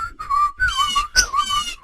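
Birds in a forest whistle back and forth in a quick series of bright, sliding calls, several short phrases in under two seconds, close and clear with no talk.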